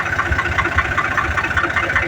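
A steady tractor engine idles with a low, rumbling throb and a regular pulsing rhythm, close by and continuous throughout.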